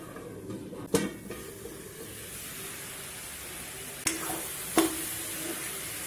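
Carrot and cabbage poriyal stir-frying in a pan with turmeric and a splash of water, a steady soft sizzle throughout, broken by a few sharp utensil clinks against the pan near the start and later on.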